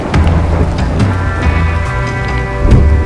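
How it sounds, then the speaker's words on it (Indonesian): Heavy tropical downpour in a forest by a river trail: a dense, loud, continuous hiss of rain with a low rumbling undertone, steady throughout with no talk. "Lama kami menunggu, hujan pun tak kunjung berhenti."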